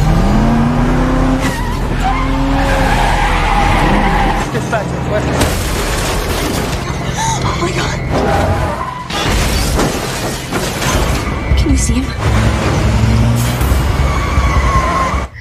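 A car skids with screeching tires and crashes with shattering impacts, loud and close, while voices shout over the chaos.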